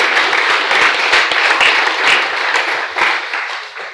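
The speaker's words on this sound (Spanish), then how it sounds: "Apláudele fuerte." A church congregation applauding loudly during a worship service, dense rapid clapping from many hands that fills the whole moment and eases slightly toward the end.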